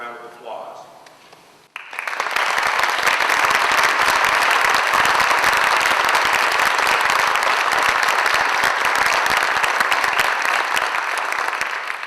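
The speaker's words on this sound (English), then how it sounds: "let's recognize them with a warm round of applause" A speaker's voice briefly, then loud, warm applause from an audience at a Parsons Wall of Honor ceremony bursts in and continues steadily, close and full, for about ten seconds.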